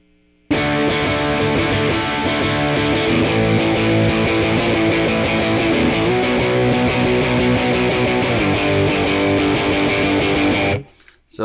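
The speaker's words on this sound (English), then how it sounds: "And now we will go to the distortion side." Heavily distorted electric guitar chords, aggressive and buzzing, play steadily for about ten seconds before cutting off abruptly.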